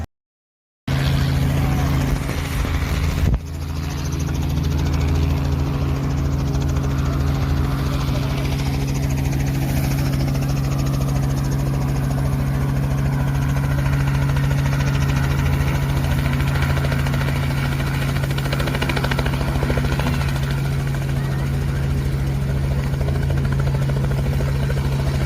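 Helicopters run steadily at Barton Airport, a continuous loud rotor and engine drone with strong low tonal hum that persists unbroken throughout.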